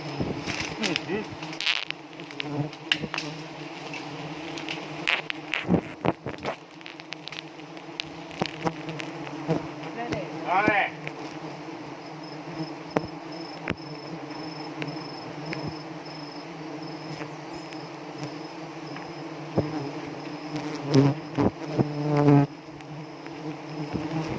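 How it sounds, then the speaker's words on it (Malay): Honey bees swarming around a hive being set up in Aceh, a dense continuous buzz close by and alone, with individual bees droning louder as they pass near. "Kita udah dikepung sama lebah guys."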